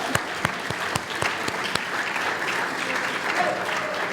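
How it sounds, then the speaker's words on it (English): Applause at a university alumni awards ceremony for the award recipients: a dense round of clapping from the audience with a few sharp individual claps standing out, sustained and fairly close. "can we just have one more giant round of applause for all of our award recipients?"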